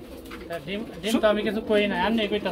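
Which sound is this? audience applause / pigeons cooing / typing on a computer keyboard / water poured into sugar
pigeons cooing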